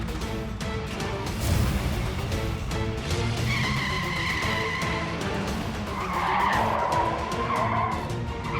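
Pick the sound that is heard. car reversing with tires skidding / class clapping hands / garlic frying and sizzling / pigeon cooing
car reversing with tires skidding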